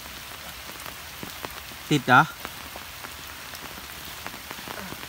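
Morning rain falls steadily on surfaces at a flooded fishing spot where lines are set for snakehead, a constant pattering hiss with a brief spoken voice partway through.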